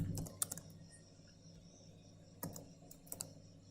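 Python code typed on a computer keyboard, in short clustered bursts of key clicks with quiet gaps between them, close and fairly soft over a low hum.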